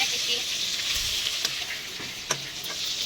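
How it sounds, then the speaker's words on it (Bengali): Eggplant fritters (begun bora) fry in hot oil with a constant bright sizzle and a few sharp stirring clicks, heard close and steady with no talk. "এখন দেখো বেগুন বড়াটা ভাজছি"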